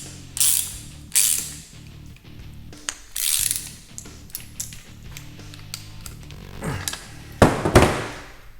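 A ratchet wrench tightens a 9/16 fitting, wrapped in Teflon tape, into a Harbor Freight air drill. Close, loud clicking comes in repeated short bursts, with a heavier flurry of clicks near the end.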